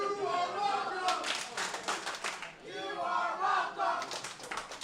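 A live wrestling-show crowd cheers and whoops continuously, with bursts of clapping rising and falling throughout, loud and close as a dense wall of voices.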